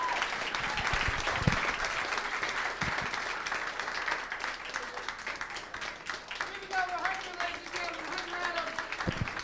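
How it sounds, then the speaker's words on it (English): At a stand-up comedy show, a crowd applauds in a steady wash of clapping, with voices and chatter mixed in and a few louder claps standing out. "Clap for Hunter."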